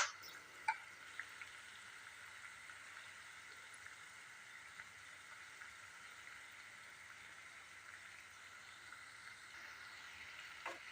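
Assamese pitha frying in hot oil, a steady soft sizzle with gentle bubbling that holds evenly throughout, fairly faint with no voices.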